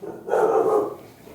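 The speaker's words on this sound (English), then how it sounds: "I think I just made the dogs bark pounding on the table." A dog indoors gives one short, fairly close bark that fades quickly into a quiet room, with no talking over it.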